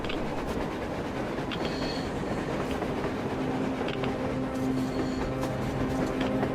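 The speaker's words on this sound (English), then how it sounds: "A train! A damn train on the surface!" A train in the video game Metro Exodus rumbles past with rhythmic clatter of wheels on rails and occasional metallic squeals, loud and continuous with no talking.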